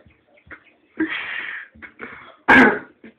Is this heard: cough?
yes